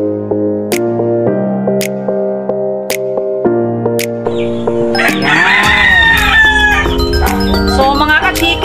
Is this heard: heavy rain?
no